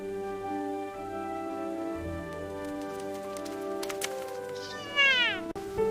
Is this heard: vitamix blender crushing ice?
no